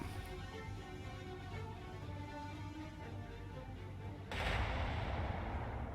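Heavy warship main guns firing in the naval game War on the Sea, a dense sustained roar of gunfire that swells louder near the end.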